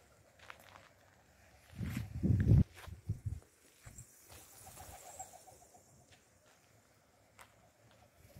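A runaway pigeon coos in a few soft bursts outdoors, with light shuffling and faint background noise around it; a louder low rumble swells briefly near the start.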